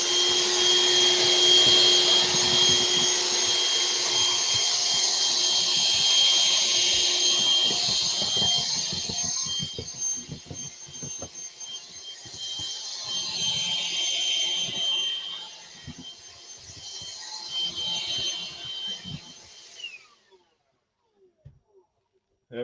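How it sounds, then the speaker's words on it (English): Hoover vacuum cleaner running close by, a loud high-pitched whooshing whine with a steady tone, fluctuating as it is moved about before switching off and winding down near the end. "just going to use the Hoover"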